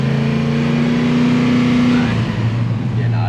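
A Chevrolet El Camino's engine revs steadily under added throttle, a loud, sustained drone whose pitch holds without any gear change as the transmission fails to shift, close by throughout.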